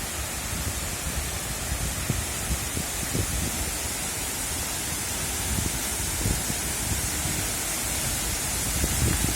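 Efrata waterfall on Samosir island, a big cascade roaring as a steady, loud broadband rush of falling water that fills the whole stretch without pause.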